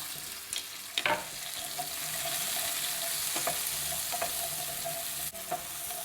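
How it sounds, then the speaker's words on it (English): Onions frying in oil in a pan for an okra and onion dish, a steady close sizzle running throughout, broken by a few louder spatters and scraping stirs. "I'm going to add 2 tablespoons of oil and then add the onions. And I'm just going to cook this until it's golden."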